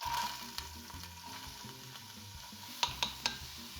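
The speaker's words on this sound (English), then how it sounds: "We start by putting our oil into the pot that you're gonna cook in. And now we throw our onions in." Onions sizzling and frying in hot oil in a cooking pot for a Brazilian moqueca seafood stew, a steady close crackle with a few sharper spatters near the end.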